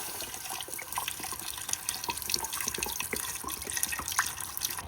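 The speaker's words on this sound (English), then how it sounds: "then you want to add some beef stock" Beef stock being poured into a pot, a close, steady splashing and trickling of liquid with small irregular drips and gurgles throughout, moderately quiet and uninterrupted, with no talking.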